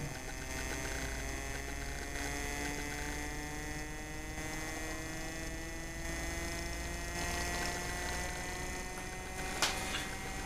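A bearingless Bedini motor spinning steadily at speed, giving a continuous electrical hum with rising whine tones, a faint airy wind noise and a brief click near the end, with no talking.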